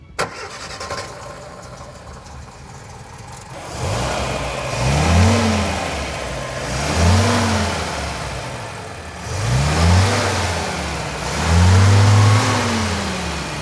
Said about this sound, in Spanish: El motor del Siam Ditela 1500.